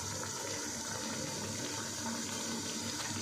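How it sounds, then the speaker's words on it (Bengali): Ghee made from milk cream starting to bubble in a pan, a steady, dense, fizzing hiss that runs continuously and fairly loud with no talking over it. "তো ঘিটা ফুটতে শুরু করেছে"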